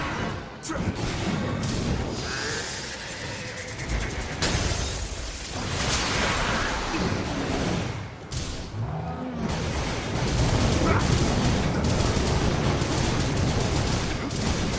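Several Grand Cannons fire together in Dragon's Dogma, a dense, continuous barrage of booming blasts and crackling bursts that overlap with no pause, loud throughout and growing heavier toward the end.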